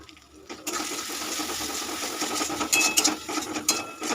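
Water poured into a pan of ground spice paste frying for a stuffed pointed gourd and prawn dish, bursting into a sputtering hiss and crackle after a brief quiet start, with a few sharp clinks of a utensil.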